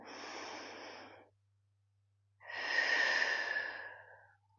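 Two slow, deep breaths during a hatha yoga session, a long airy exhale followed after a brief silence by a fuller, slightly louder one, close and unaccompanied.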